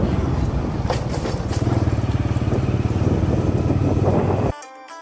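A motorbike engine putters steadily along a riverside road, a close, even rumble with a faint horn-like toot early on, before the engine noise cuts off abruptly near the end.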